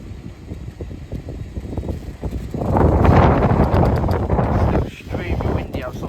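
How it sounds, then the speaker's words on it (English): Strong outdoor wind buffets the microphone in a loud, rumbling roar for a few seconds, then eases, with someone talking over the bluster. "It's extremely windy outside, I'll tell you that."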